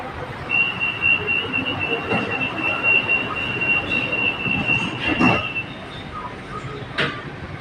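A Bangkok Pink Line metro train rolls into Impact Muang Thong Thani station with a long, high-pitched wheel squeal held for several seconds, over steady rumbling and rail noise.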